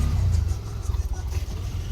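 An auto rickshaw's engine rumbles steadily close by on a city street, with a low idling drone that swells slightly as it revs, heard alone without talk.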